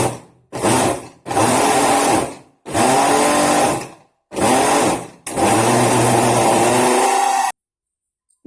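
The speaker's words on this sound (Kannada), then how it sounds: "ಈ ಮಿಕ್ಸಿ ಜಾರ್ನಲ್ಲಿ ಹಾಕ್ಕೊಂಡು ಇದನ್ನು ತರಿಯಾಗಿ ರುಬ್ಕೊಂಡು ಬರೋಣ್ರಿ" A mixer grinder whirring as it grinds chapati pieces in a mixie jar, running in five loud, close bursts of steady motor whine separated by short pauses, then stopping, with no talk.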